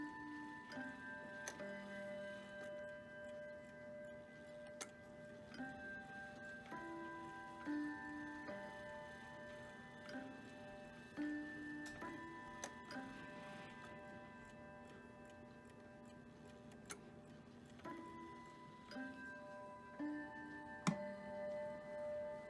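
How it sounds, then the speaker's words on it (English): A Bulova clock chimes the quarter hour at 10:45, ringing a run of clear bell-like tones over its own steady, quiet ticking, close by in a hushed room with no voices. "The Bulova just went off for 10:45, so I figured I would let you guys hear that"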